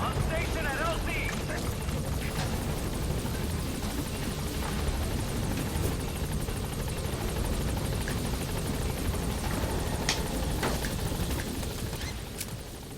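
The Pequod helicopter in Metal Gear Solid V thunders in to a landing zone, a loud continuous rotor roar filling the whole stretch with occasional sharp bangs, as voices talk over it.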